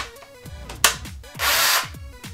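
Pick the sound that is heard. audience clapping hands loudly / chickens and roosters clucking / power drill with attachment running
power drill with attachment running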